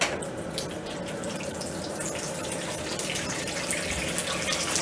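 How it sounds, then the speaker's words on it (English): Warm water runs steadily from a tap into a sink for home brewing, a continuous close-up gushing and splashing that holds an even level throughout, with no talking. "what we need to do now is fill this sink with warm water"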